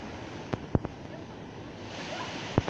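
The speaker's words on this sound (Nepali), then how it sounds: "दुईतिरबाट खोला आइरहेको छ यताबाट एउटा यताबाट एउटा" Two mountain streams meet in Bhojpur, Nepal, their rushing water a low, steady wash with a few sharp knocks cutting through.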